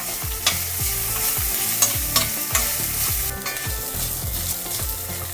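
Lemon rice ingredients sizzle in a hot pan while a spoon stirs them in steady, repeated scraping strokes over a constant frying crackle, close and fairly loud.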